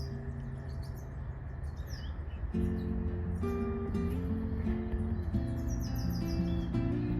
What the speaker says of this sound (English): I haven't seen a lot of birds during my walk, but I can definitely hear them.